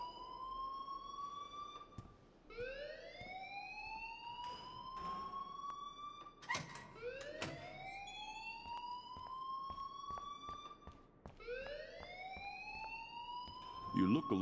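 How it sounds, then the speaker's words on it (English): A repeating rising electronic alarm wails in the video game Life is Strange, sweeping upward about every two seconds with loud, steady tone and a few sharp knocks and clatters mixed in. "please turn off that alarm since that's your job"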